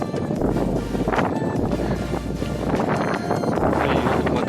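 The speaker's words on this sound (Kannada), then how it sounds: "ಗಾಳಿ ಮಾತ್ರ ಮಸ್ತಾಗೈತೆ" Wind blows on a hilltop at Sakleshpur, a loud, continuous rumbling roar with gusty low buffeting against the microphone and no talk.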